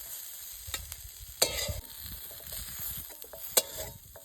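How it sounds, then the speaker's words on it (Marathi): Onion, garlic, coconut, coriander, ginger and tomato roast together in a pan for masala, making a soft crackling sizzle with occasional sharp pops and scraping stir sounds, fairly quiet overall. "कांदा, लसूण, खोबरं, कोथिंबीर, आलं आणि टोमॅटो हे सगळं आपण भाजून घेऊया"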